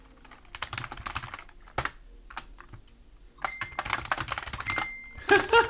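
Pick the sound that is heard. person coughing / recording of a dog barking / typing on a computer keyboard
typing on a computer keyboard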